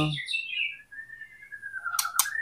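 A single white-rumped shama sings nearby, a clear descending run of whistled notes followed by a sustained tone and two sharp chirps at the end.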